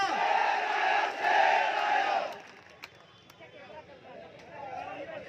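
A crowd at a political rally roars and shouts loudly for about two seconds, then drops to a lower murmur with a few isolated sharp sounds and voices.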